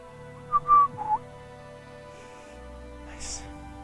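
A person whistles a few short tonal notes during a hamstring stretch in a total-body toning workout, brief and fairly close, followed by quiet room tone and a faint breathy sound.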